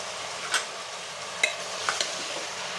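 Mutton korma being stirred after a paste plus coriander, turmeric, red chili and cumin powders go into the pan: a soft, steady scraping with a few sharp clinks of spoon against pot, fairly quiet and close.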